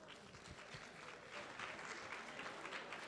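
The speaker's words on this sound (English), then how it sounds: "Applaudissez, s'il vous plaît." Applause from the audience at an African insurance awards ceremony, a broad steady wash of many hands clapping that swells slightly and holds at moderate distance.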